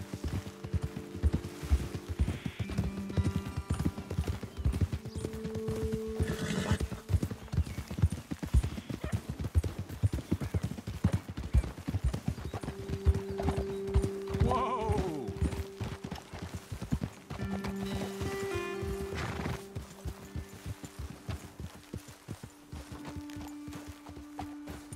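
Horses clip-clopping in the video game Red Dead Redemption 2, a continuous stream of hoof strikes from several animals, with an occasional whinny and musical tones underneath.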